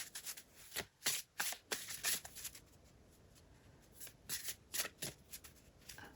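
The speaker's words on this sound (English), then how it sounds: "it's time to draw the next card" Soft, close papery swishes and rubs of cards being handled and drawn from a deck, quiet, in a dozen or so uneven strokes with no talking.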